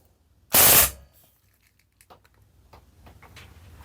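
High-pressure air-powered gun running on 2500 PSI fires one loud, close, rapid burst of about half a second, then falls quiet except for faint scattered clicks and rustles.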